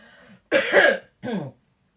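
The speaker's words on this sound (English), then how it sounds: "sorry, I'm going to cough" Two harsh, close coughs in quick succession, the first longer and stronger, the second shorter, followed by silence.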